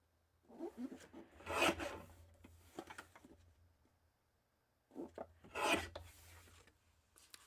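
Teal cardstock is cut in two bursts of rasping, scraping strokes, close and fairly quiet, with a pause between them and no talking.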